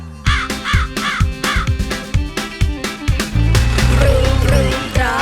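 Bouncy children's music with a steady beat, over which a voice imitates a crow's repeated cawing, then a fuller instrumental section carries on.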